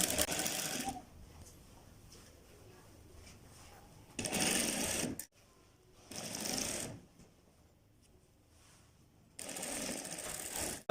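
A sewing machine stitches contrast piping onto a high-neck kurta in three or four short bursts of fast mechanical whirring, quiet pauses between them, close and fairly soft.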